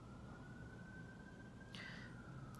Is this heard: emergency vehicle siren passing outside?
yes